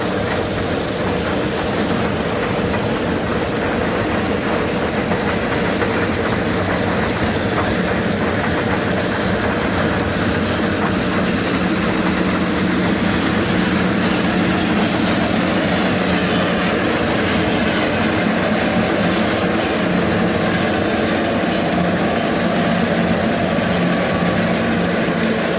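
A westbound Erie Lackawanna train rolls through Bloomsburg, its loud, continuous rumble and rail noise filling the whole stretch and building slightly as it passes close by.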